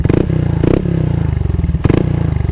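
Motorcycle fitted with a T4S exhaust pipe, not an open pipe, idling loud and close with a steady low throb, broken by three short rev bursts.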